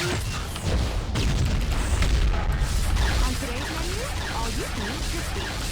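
Captain Marvel's abilities in the Marvel Heroes video game (crash down strike, stellar flare and photonic wave) fire in quick succession. Dense booms, bursts and crackling impacts roll continuously, with a voice partly heard in the mix.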